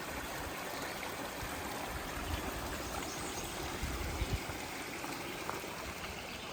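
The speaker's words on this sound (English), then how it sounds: "We got Ivy Creek here just a trickling." Ivy Creek trickling along a trail in Shenandoah National Park, a steady, soft babble of water that runs continuously and sounds close.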